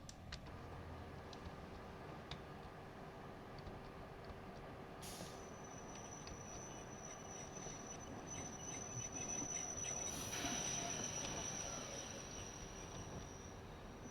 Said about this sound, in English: Okay, train is now coming to a stop.